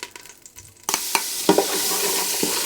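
Pork sautés in a Ninja cooker, starting with quiet, soft rustling, then a loud sizzle bursts in and holds steady, punctuated by a few sharp knocks and scrapes of stirring, close up with no speech.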